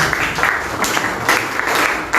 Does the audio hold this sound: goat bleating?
no